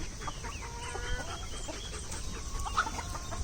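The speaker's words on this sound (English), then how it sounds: "Look at all those birds over there." A flock of chickens clucks and chatters continuously at close range, with overlapping calls and faint background noise.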